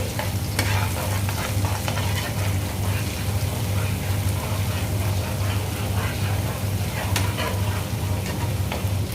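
Sesame and onion paste fries in oil for a fish fry, making a dense, even sizzle that runs unbroken throughout. A low steady hum sits beneath it and occasional light clicks break through.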